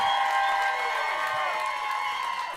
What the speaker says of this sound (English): Start clapping for Josh Johnson, y'all.